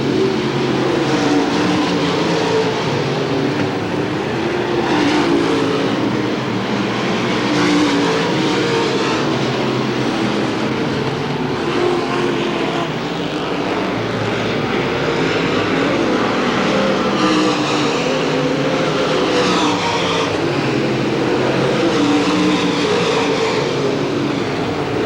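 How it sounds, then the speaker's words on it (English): Race cars roar past on a speedway oval during the 1993 Winston 50, a loud continuous engine din with repeated swells as cars pass the start-finish line, no voices heard. "Todd Stuber trying to come along in the blue number 18 as your leader comes by the start-finish line."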